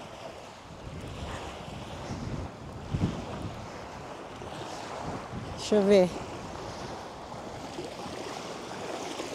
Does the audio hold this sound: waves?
yes